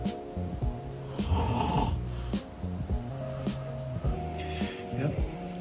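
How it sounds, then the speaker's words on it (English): Heavy, rumbling snores repeat in a slow rhythm, close and loud, with snorting breaths between them. "There was a guy who was snoring super loud and kept farting."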